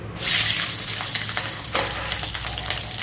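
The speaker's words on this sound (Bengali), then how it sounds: "লঙ্কা ভেজে তুলে নিলাম তেলে আমি কটায় রসুন দিয়ে দিচ্ছি" Garlic cloves hit hot oil after chillies have been fried and lifted out, bursting into a loud, dense sizzle that settles into a steady crackling fry with a few sharper pops.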